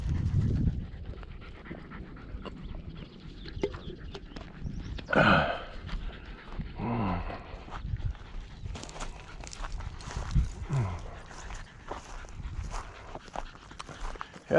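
Dog panting steadily while sniffing around outdoors at a waterfowl management area, with footsteps on the ground and brief louder rustles and sniffs, and a faint voice now and then.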